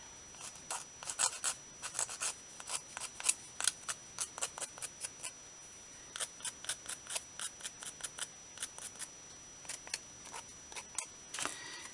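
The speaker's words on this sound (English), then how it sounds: "And we'll sand this just a bit," Hand sanding of a vintage paper miniature, short scratchy strokes repeated in quick irregular bursts with brief pauses, close up and fairly quiet, no voices.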